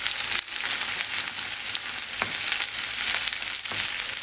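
Red and green peppers frying in a pan over high heat, giving a steady bright sizzle with a few faint taps of a utensil, no voices.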